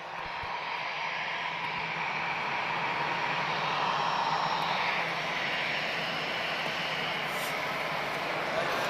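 Heavy Airbus A330 airliner departing Lisbon Airport, its jet engines giving a loud, sustained roar that builds gently toward the middle and stays strong throughout, no voices over it.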